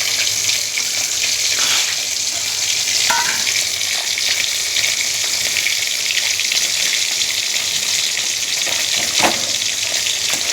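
Koi fish fry in hot oil with a continuous bright crackling sizzle, steady and close, with a few scrapes as the pieces are turned and lifted.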